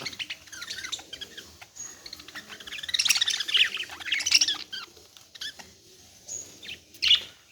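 Blue, green and yellow budgerigars in a lot for sale in Bangalore give bursts of sharp squawks and chirps, several clustered calls rising above soft background rustling, with no talk.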